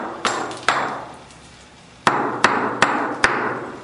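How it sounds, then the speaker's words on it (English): A slag hammer's points strike wood again and again to distress it into little wormholes: sharp, close knocks, two spaced hits and then four quicker ones, with no talking. "what we're doing now is we're trying to create like little wormholes using the different points of the slag hammer"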